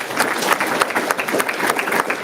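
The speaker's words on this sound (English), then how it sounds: "So can we please give them a round of applause" Graduation ceremony audience applauding, a dense, steady wash of many hands clapping at moderate loudness throughout, with no speech over it.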